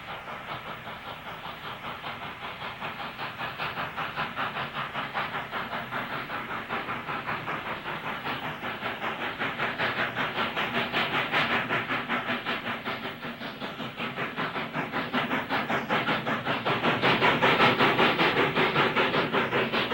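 A Pacific-type steam locomotive hauling a freight train rolls past at a distance in Manitoba, with a steady hiss and rhythmic clanking that swells and fades, and no voices.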